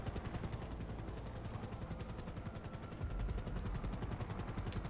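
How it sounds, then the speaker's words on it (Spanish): Police helicopter in the video game GTA V, a steady rapid rotor chop thumping continuously at moderate loudness, growing slightly heavier toward the end, with no talk over it. "Han sacado el helicóptero."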